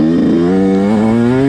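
A motocross dirt bike with a freshly rebuilt top end revs loudly and close, its engine note buzzing and rising steadily in pitch over a short burst.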